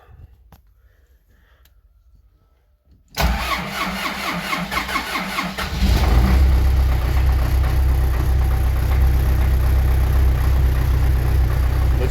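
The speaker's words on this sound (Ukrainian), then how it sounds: "Так, зараз запускати трактор." After a few quiet seconds an MTZ-82 tractor's heavy diesel engine cranks and catches on a cold start, chugs roughly, then rises to a loud, steady rumbling idle.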